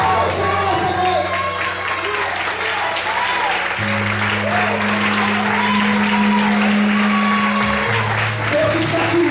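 A church congregation claps and cheers during an evening service, the broad applause running throughout with shouts mixed in, while a sustained keyboard or organ chord plays underneath.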